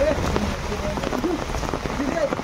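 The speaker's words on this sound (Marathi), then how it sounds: "पावसानं आगमन झालेलं आहे." Steady rain pours down in a dense, even hiss during a Ganesh festival procession, with voices murmuring faintly underneath.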